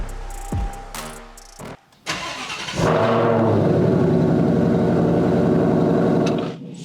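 A 2022 Ford Mustang GT500 is started, with a door thud and interior clicks before the starter whirs and the engine catches into a loud, deep, rumbling idle that holds steady, heard close up with no talk.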